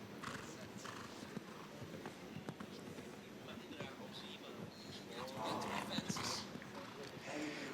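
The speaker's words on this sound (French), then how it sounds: "Même Christian est bousculé par le passage du dos de son cheval." Stallion hooves clip-clopping at a stallion presentation, a steady rhythmic beat of hoofsteps on the ground under crowd noise and a running commentator's voice.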